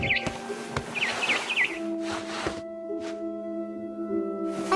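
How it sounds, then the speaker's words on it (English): Barn swallow chirping inside the game What Remains of Edith Finch, a few quick twittering calls early on over a steady ambient hum, then scattered soft noises. "Then I heard chirping outside my window. It was a barn swallow going back to her nest."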